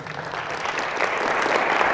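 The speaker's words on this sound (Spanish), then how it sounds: "Dele fuerte el aplauso a la palabra." A church congregation breaks into loud, sustained applause that swells slightly as it continues, with no voices over it.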